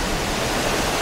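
River water rushes over a rock formation in a state park, a loud, dense, constant roar filling the whole moment with no voices.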